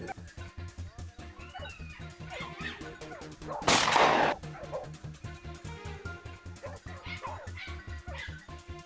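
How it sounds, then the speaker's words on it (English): Hunting dogs bark in a frenzied pack at a dense bush during a wild boar hunt, with steady overlapping barks throughout and one sudden loud burst of noise midway. "our dogs erupted into a frenzy, barking wildly at a dense bush"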